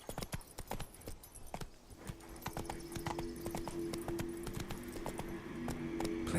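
Horse galloping in The Witcher 3 video game, rapid rhythmic clip-clop hoofbeats close by, with a game soundtrack or ambience swelling underneath as the ride continues.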